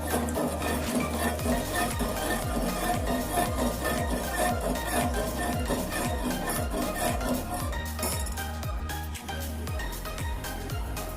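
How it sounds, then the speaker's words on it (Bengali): Milk with cardamom boiling in a pot for pudding while a spoon scrapes and stirs around the pan, steady repeated scraping strokes with faint clinks, close and fairly quiet. "আমি দুধটা ভালোভাবে ফুটিয়ে নিব, ভালোভাবে জাল দিয়ে নেব দুধটা যতক্ষণ পর্যন্ত না একটু ঘন হয়ে আসবে"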